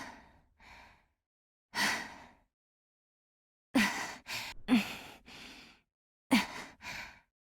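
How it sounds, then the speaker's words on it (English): Kujou Sara from Genshin Impact, Japanese voice, gives a series of heavy breathing climbing moans: short sighs and gasps in clustered bursts separated by silences, close and fairly quiet. "Kujou Sara's heavy breathing moans are not only flavorsome and tangy"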